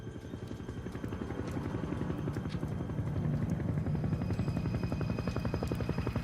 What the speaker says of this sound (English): the distinctive sound of a helicopter